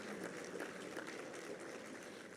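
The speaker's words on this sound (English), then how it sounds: "Let's give them all a round of applause" Faint, distant round of applause from a seminar audience honoring trustees, a soft steady patter of many hands held at low level for a couple of seconds.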